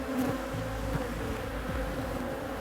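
Honey bees from a swarm buzzing around a comb of brood and honey at an organic apiary in Fujairah: a close, continuous droning hum with wavering pitch.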